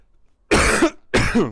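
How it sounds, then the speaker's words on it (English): One person coughs twice, two short harsh bursts close to the microphone, separated by a brief pause, in an otherwise quiet setting. "Sorry, I'm still coughing quite a bit from last time."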